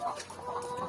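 Laying hens cluck in a layer-hen house on a farm, a busy, continuous murmur of many birds close by with no clear breaks.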